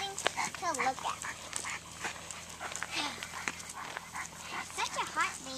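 A dog on a hot-day nature hike yips and whimpers in short, high, repeated cries scattered over steady outdoor background noise, fairly faint and close.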